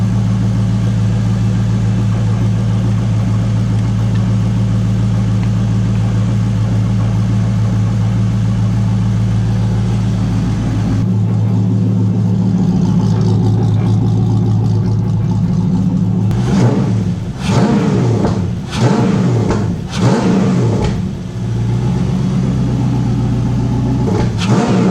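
A BMW E30 with a swapped LS1 V8 and heat-wrapped exhaust idles with a deep, steady rumble, then rises into several sharp revs in quick succession, loud and close.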